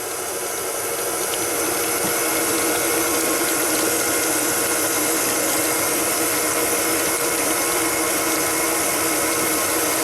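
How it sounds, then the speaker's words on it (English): Electric stand mixer beating gluten-free cookie dough with eggs, a steady, loud motor whir running continuously and evenly throughout with no voices. "I'll lock the mixer in place, and then I let it go and do its job now."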